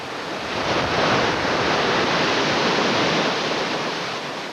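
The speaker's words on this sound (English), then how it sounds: "Torrents of water pouring down off the Porcupine Mountain knocked out this chunk of Highway 10" Floodwater torrents pour down off the Porcupine Mountain near Swan River during the 1993 flood, a dense, steady roar of rushing water, loud and unbroken like a waterfall, with wind noise on the microphone.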